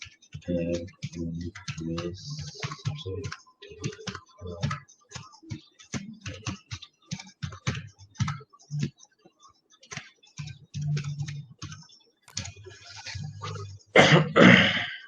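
Fingers type on a computer keyboard to enter a user ID and password while logging into Microsoft SQL Server, producing rapid irregular key clicks close up, with a few voiced sounds and a loud burst of clicking near the end.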